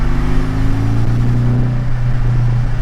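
Porsche 718 Cayman GTS fitted with a Fabspeed Supercup exhaust in normal mode, a loud, close, steady engine drone that holds and slowly climbs in pitch under throttle.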